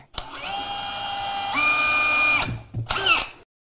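Power drill pre-drilling a screw hole during a kitchen renovation: a whining motor run of about two seconds that rises in pitch as it bites, then a short second burst, close and loud.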